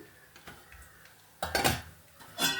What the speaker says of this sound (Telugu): కొంచెం ఒక 1/2 స్పూన్ మెంతులు వేస్తున్నానండి